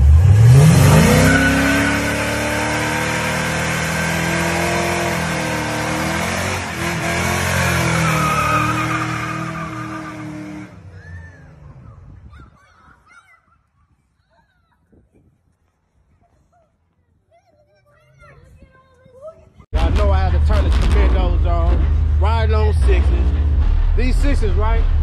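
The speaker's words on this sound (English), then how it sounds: "I'ma just drive it up the street." A car with a 3800 engine drives up the street: a loud, close engine climbs and revs steadily for about ten seconds, then fades away into near silence. A loud burst of other sound cuts in near the end.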